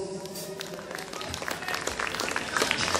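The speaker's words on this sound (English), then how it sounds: "let's have a big round of applause for a couple of guys up here on piano this afternoon" Afternoon concert crowd applauding piano players on stage, a steady mid-level patter of clapping that swells slightly toward the end, with a faint tonal hum and some voices underneath.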